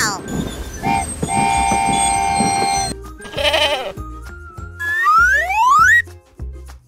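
Wild goats, goat antelopes in a toy zoo diorama scene, bleat in a quick series of wavering, nasal calls close by, mixed with other bright, rising whistle-like tones and short thumps.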